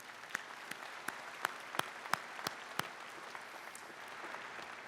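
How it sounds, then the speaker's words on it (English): Audience at a Chase College of Law commencement ceremony claps for a student brass quintet, a faint, thin patter of scattered applause with a few sharper individual claps standing out. "Can we give them a round of applause, please?"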